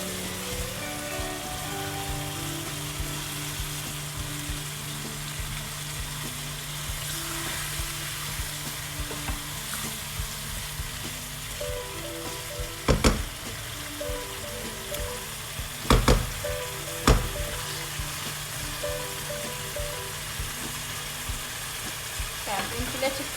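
Lamb pasanda meat fries on high heat in a kadahi, a steady bright sizzle like light rain throughout, with a few sharp metallic knocks of a utensil against the pan partway through and a low background hum.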